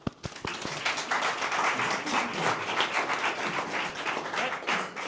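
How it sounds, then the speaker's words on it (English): Meetup attendees at a tech gathering break into applause, a few scattered claps quickly swelling into a steady, fairly close round that holds until the end. "Give them applause."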